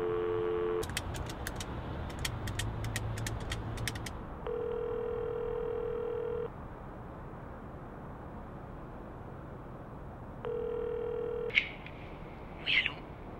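A telephone handset dials a number, with a steady tone, then a rapid series of sharp dialing clicks, then a few repeating tone bursts and faint chirps near the end. No voices are heard.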